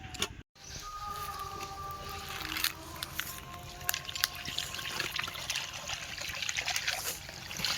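Cut fish is washed in clear water at a pond in the Sundarbans, heard as close splashing, trickling and dripping water that continues steadily.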